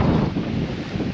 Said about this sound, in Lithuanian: kiek vėjas pučia į rankai šalta